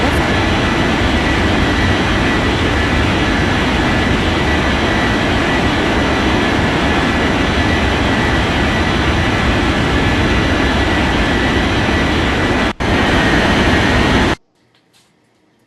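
An airplane takes off in the Unmatched Air Traffic Control video game, its engines a loud, steady jet roar that holds for about fourteen seconds and then cuts off abruptly.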